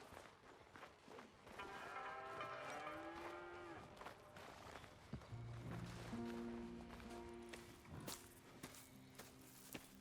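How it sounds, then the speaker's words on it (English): Cows mooing on a farm in Red Dead Redemption 2, several long low moos from different animals, with footsteps and other game ambience around them. "Here's the cows."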